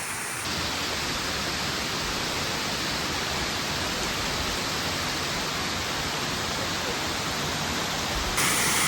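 A waterfall in Utah roars as a steady, dense wash of rushing water, loud and constant throughout, with no voices.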